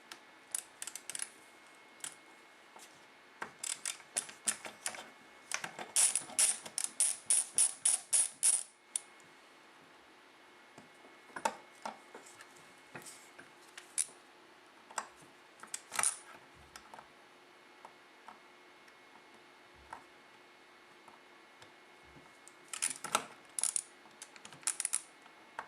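A small screwdriver works the locking pin of an FNAR rifle bolt, producing sparse, light metallic ticks and scrapes with a quick rattling burst of clicks partway through, close and faint, with no voices.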